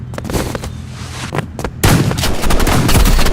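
Shotgun blasts in the Roblox shooter Rivals: a few sharp separate shots, then a dense, loud stretch of rapid overlapping gunfire with no voices.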